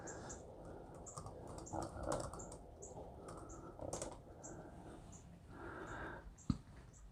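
Someone types a chat message on a keyboard in quiet, scattered clicks and short bursts, soft and fairly close, with light breathing or a sniff between keystrokes and no speech.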